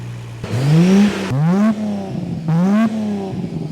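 A Nissan GT-R engine revs hard three times from a low idle, each rev climbing steeply, then cutting off sharply and dropping back to idle, loud and close with no voices.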